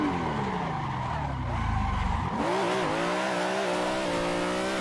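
BMW M3 drift car built by Aussie Drift Co skids through a slide in Assetto Corsa, a loud continuous tire squeal with a rising engine whine, close and steady throughout.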